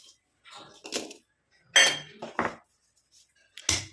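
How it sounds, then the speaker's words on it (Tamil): Shallots are pounded in a mortar with a handful of distinct, hard knocks and clinks, spaced irregularly with silent gaps between strikes, close and fairly crisp. "கழுவிட்டு இந்த மாதிரி ஒரு உரலில் போட்டு நம்ம இதை இடிச்சிக்கலாம்"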